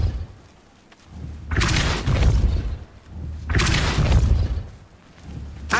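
In the Hogwarts Legacy video game, the Depulso pushing spell is cast twice, each time as a heavy booming burst with crashing, shattering debris that rumbles for about a second and a half before fading.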